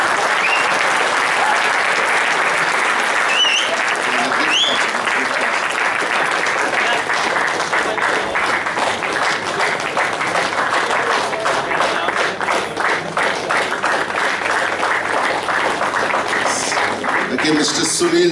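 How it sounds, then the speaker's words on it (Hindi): A church congregation applauds loudly, a dense, sustained wash of clapping that runs steadily for the whole stretch without a break. "हम चर्च से उम्मीद करते हैं आप जोरदार उनको ताली दें"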